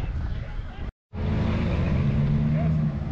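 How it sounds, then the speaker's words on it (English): A deep, steady engine rumble from a V8 car, loud and close, with a brief cut partway through. "Listen to the rumble off that, folks. The V8."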